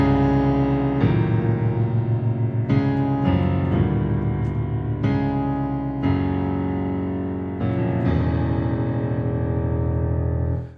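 Chords strummed on a guitar meant to sound happy and carefree, a series of loud attacks every second or two that ring out and decay, played alone with no talking.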